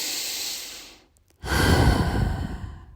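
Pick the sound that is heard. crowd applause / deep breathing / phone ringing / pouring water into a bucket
deep breathing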